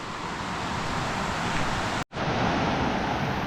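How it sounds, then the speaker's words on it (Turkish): Floodwater rushes along village roads past a house after heavy rain, a steady loud broadband roar of flowing water that drops out for a split second midway before resuming. "bakın yollara seller akıyor yollardan evin önünden"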